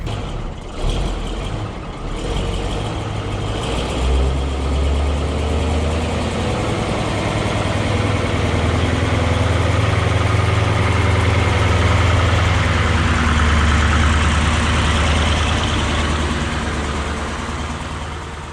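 Old Willys Jeep engine runs with a loud, steady low rumble and idle throughout, close by, with some rattling early on and no talk.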